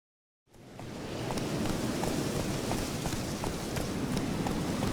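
A horse in The Witcher 3 breaks into a gallop after a brief silence, hooves pounding in a rapid, steady rhythm under a dense wash of movement noise.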